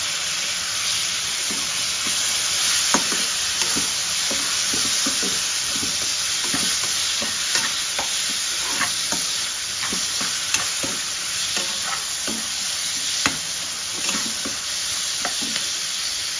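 Tomatoes fry in a pan for a lemon-style rice, giving a loud, continuous sizzle up close, punctuated by frequent light clicks and taps of a stirring utensil throughout.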